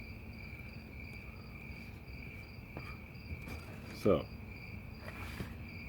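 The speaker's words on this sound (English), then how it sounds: "the crickets are in full effect tonight" Crickets chirp steadily in a continuous high trill through the night air, with a brief spoken word and a soft thump partway through.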